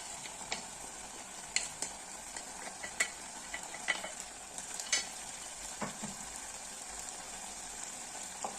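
Goat meat seasoned with pepper, onion powder and paprika is stirred in a hot pan, steady sizzling frying with scattered scraping clicks of the spoon, fairly quiet and close, no voices.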